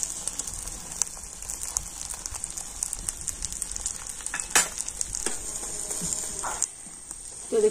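An egg paratha fries in oil in a frying pan over low heat, giving a steady, close, hissing sizzle with faint crackles and a few brief clinks and scrapes.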